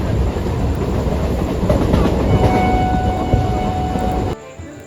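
A train rumbles steadily along the rails, a loud continuous roar with faint clatter, cutting off abruptly near the end.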